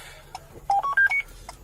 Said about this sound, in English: they'll ring even on silent on an alarm